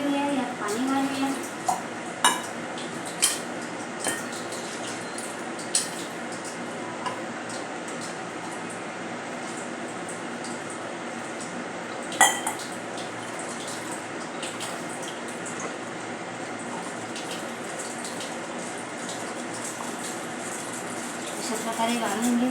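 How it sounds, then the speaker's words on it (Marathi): Soft, steady trickle of water poured through a strainer to strain spiced pani puri paste, with a few sharp ticks and clinks scattered over the flow and someone talking throughout. "आता यामध्ये आपण पाणी घालून ही गाळून घेऊया."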